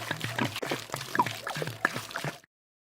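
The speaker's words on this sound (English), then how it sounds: "Then pour the milk." Milk poured for pancake batter, a close gurgling, glugging stream with rhythmic pulses lasting about two seconds before stopping abruptly, with no one speaking.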